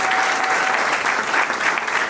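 Guests applauding at a civil wedding in Gabon, loud continuous clapping with a steady dense texture throughout.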